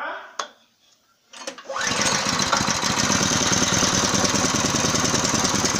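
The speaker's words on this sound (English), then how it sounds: "The machine is running at a very low RPM." A mobile welding machine's engine is started and settles into a low-RPM idle, a steady close chugging rumble that follows a few short clanks and a brief starting whirr, with a voice heard early on.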